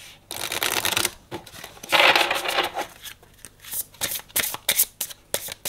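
A deck of tarot cards being shuffled before a reading, with repeated crisp riffling and flicking bursts, close and fairly loud, broken by short pauses and no talking.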